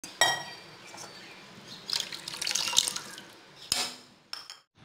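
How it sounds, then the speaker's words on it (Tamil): Water poured into a cooking pot, about three cups, for cucumber kesari, with a splashing, trickling stream that starts and stops in uneven bursts, fairly close and alone. "ஒரு 3 கப் அளவுக்கு மட்டும் நான் தண்ணி விட்டுக்கிறேன்"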